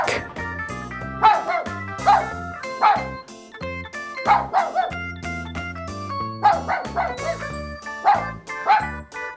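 A dog barks repeatedly in short single woofs, spaced about a second apart, over a bright, bouncy musical backing.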